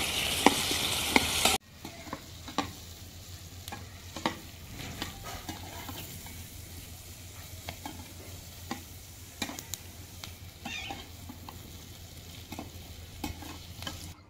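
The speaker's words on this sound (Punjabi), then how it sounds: "ਸਬਜ਼ੀਆਂ ਨੂੰ ਨਾ ਆਪਾਂ ਬਿਲਕੁਲ ਮੀਡੀਅਮ ਜੀ ਫਲੇਮ 'ਤੇ ਜਿਹੜਾ ਨਰਮ ਹੋਣ ਤੱਕ ਪਕਾ ਲਾਂਗੇ" Chopped vegetables and bell pepper stir-fried in a pan over a medium flame: a steady soft sizzle broken by repeated scraping stirs, after a brief loud burst at the start.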